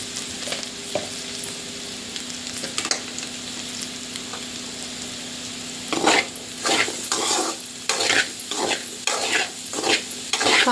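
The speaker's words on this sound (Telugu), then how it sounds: "అడుగంటకుండా కలుపుతూ ఉండాలండి. గోల్డ్ కలర్ రావాలి." Potato fry sizzles in a hot pan while being stirred for a golden crisp finish, with steady frying hiss and a run of scraping, clattering stirring strokes in the second half.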